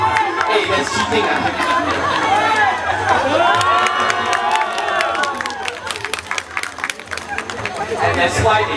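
At an outdoor bird show, a large audience shouts and cheers loudly and continuously, with excited children's voices, chatter and scattered claps rising and falling throughout.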